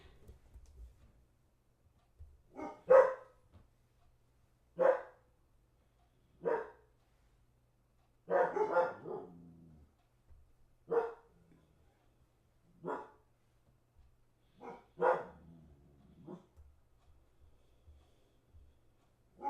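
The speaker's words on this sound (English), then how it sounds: "Dogs are after someone." Dogs barking in a steady series of about nine sharp barks spaced a second or two apart, fairly close and loud against a quiet background, with no talking.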